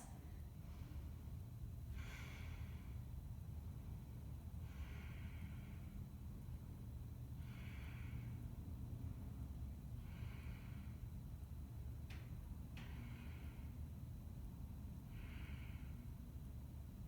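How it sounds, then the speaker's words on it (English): Slow, deep yoga breaths during a held pose, a steady series of soft airy inhales and exhales recurring about every two to three seconds, close and quiet over a low background rumble. "Let's take 10 breaths."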